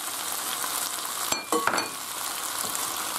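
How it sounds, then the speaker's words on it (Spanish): Paprika tipped into a hot pan with oil, a steady hiss of frying broken by a couple of quick scraping stirs and clinks midway, continuing to sizzle afterward. "Y ahora echamos el pimentón"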